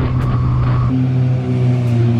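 Motorcycle engine revving up close, a steady loud low drone whose pitch steps up partway through and then holds, alone with no talking.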